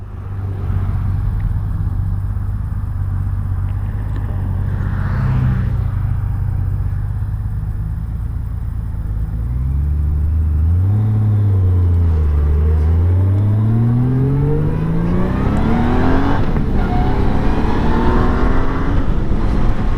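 A Honda GL1500 Goldwing motorcycle with freshly rebuilt carburetors rides along with a steady engine drone, then shifts and accelerates in rising and falling surges of revs, loud and close under wind rush.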